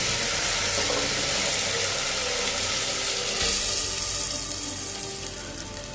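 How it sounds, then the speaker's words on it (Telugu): Sabudana (sago pearls) fry in ghee over a low flame for kheer, giving a steady, dense sizzle close by that continues throughout with no talking. "సాఫ్దానా వేసుకొని లో ఫ్లేమ్ మీద పెట్టేసుకొని బాగా వేయించుకోండి"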